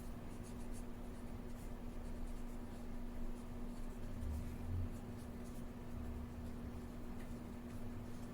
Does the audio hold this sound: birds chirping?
no